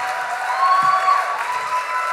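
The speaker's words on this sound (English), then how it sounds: "The applause is getting less enthusiastic" Live podcast audience at a festival applauding and cheering, a steady wash of clapping and crowd noise with a faint whistle-like tone on top, fairly loud and continuous throughout the short stretch.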